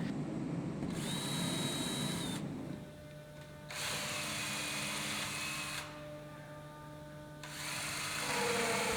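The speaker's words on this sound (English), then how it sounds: "Pre-drill the holes for the screws into the side of the rafters" A power drill pre-drills screw holes into the side of wooden gazebo rafters, whirring in three sustained bursts with short pauses between, close and steady, with no talk.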